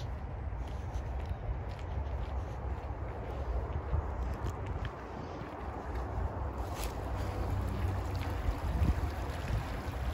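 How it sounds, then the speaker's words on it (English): Flowing water near The Chimney House Hotel in Cheshire, a soft, continuous burble and rush with light wind, steady and moderately distant. "I love to hear water."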